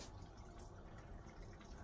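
Water running into an RV toilet bowl, a faint continuous trickle and splash with no pauses.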